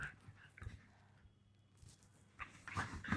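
A dog at home whimpers and whines in short, close bursts, with soft shuffling between the cries and a louder run of whines at the end.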